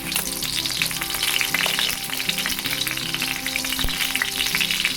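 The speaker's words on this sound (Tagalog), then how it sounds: "Kaya lang kailangan ko lang na iprito muna." Slices of Spam fry in a pan with a steady, close sizzle and crackle that continues throughout, broken by a few soft clinks of a utensil and no talking.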